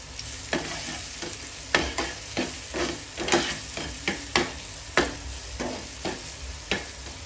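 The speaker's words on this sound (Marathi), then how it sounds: "इथे मसाले जे आहेत चांगले असे मिक्स करून घेऊया तेलामध्ये" Spices stirred into hot oil for a bhindi (okra) dish: a bright sizzle broken by repeated scraping strokes of a spoon, roughly one or two per second, close and clear.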